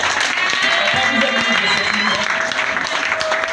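A church congregation at a deliverance service claps in loud, sustained applause to acclaim the Lord, a dense wash of hands filling the room with voices and music mixed in.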